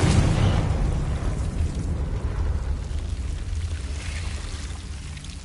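Fiery blast of the Confringo spell in a Harry Potter video game: a loud low-heavy rumbling burst at the start that rolls on as a sustained roar, slowly fading across the clip.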